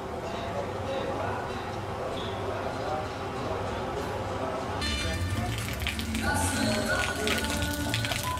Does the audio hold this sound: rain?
yes